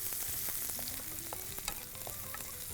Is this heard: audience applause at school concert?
no